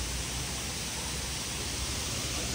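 Waterfall at night in Dubai, a steady, dense broadband rush of falling water that stays constant and fairly loud throughout, with no voices.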